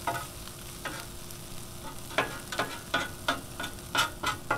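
Corned beef hash sizzles steadily on a Blackstone 22-inch griddle, with a constant frying hiss broken by a series of sharp scraping and stirring clicks from a spatula, close and fairly loud, with no talking.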